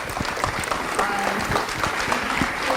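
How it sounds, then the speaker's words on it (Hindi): An audience gives a warm round of applause for Prathamesh: a brisk, continuous crowd clapping, fairly close and full, with faint voices mixed underneath. "प्रथमेश भाई के लिए बहुत सुंदर तालियां।"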